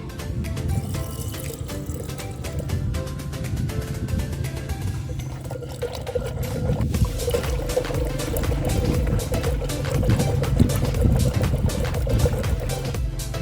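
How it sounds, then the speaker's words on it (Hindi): Water runs steadily into yogurt in a clay pot while lassi is made, a continuous close pouring and trickling that grows fuller and splashier partway through and lasts over ten seconds. "इसमें हम पानी शामिल करेंगे।"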